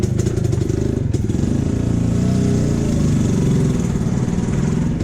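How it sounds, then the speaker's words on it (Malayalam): A 1970 Jawa 353 250cc two-stroke motorcycle with twin exhausts runs close by, a steady loud burbling engine note with a rapid crackling rhythm, heard alone throughout. "എല്ലാവരെയും അട്രാക്റ്റ് ചെയ്യുന്ന ഒരു ഡ്യുവൽ എക്സോസ്റ്റ് സൗണ്ടാണ് ജാവയ്ക്കുള്ളത്"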